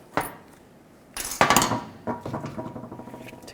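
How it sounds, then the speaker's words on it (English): Metal brake pad anti-rattle clips come off Nissan Maxima rear brakes with sharp clinks and clatters, a few scattered knocks followed by a quick run of rattling metallic taps close up. "Take these pad anti-rattle clips off."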